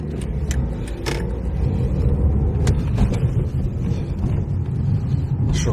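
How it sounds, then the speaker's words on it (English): Peugeot 309 hatchback passing on a road in Folkestone, a steady engine and tyre rumble with wind buffeting, loud and close throughout. "Little Peugeot 309 there."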